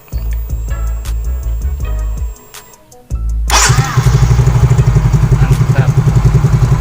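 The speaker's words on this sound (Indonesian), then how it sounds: "Kita cek lagi, kita starter." Yamaha Fino motorcycle engine cranked by its starter: a loud whirring crank that cuts out, a short pause, then a second crank that catches into a steady, close, throbbing idle.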